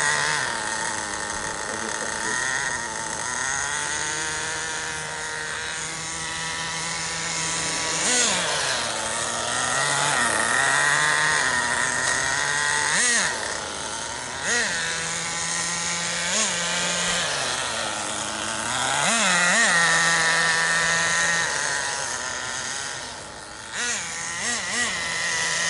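The small nitro engine of a Redcat RC model car runs during break-in, buzzing loudly and steadily at close range with repeated throttle blips that rise and fall. People talk at times over the engine.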